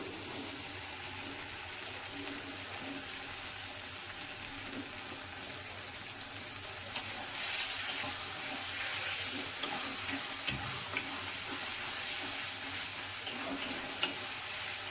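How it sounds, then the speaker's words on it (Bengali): Potatoes frying in hot oil in a wok for a soybean and potato dish, a faint, steady hiss that grows louder halfway through, with a few light knocks and no talking. "তেল ছেড়ে দিয়েছে মানে আমার কাছে আলুগুলো আছে, তো আমি আলুগুলো দিয়ে দেবো।"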